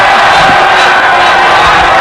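A college basketball arena crowd at a Kansas game roars and cheers steadily for a couple of seconds, a dense, loud wash of voices with no break.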